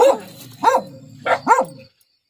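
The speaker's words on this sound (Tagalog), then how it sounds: "dami ng aso po" Four sharp dog barks in two quick pairs, loud and close, with a brief whimpering tail, then silence.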